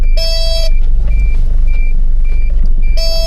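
A van's brake warning buzzer sounds in two loud tonal bursts at the start and end, with faint intermittent beeps between, over a heavy low engine rumble.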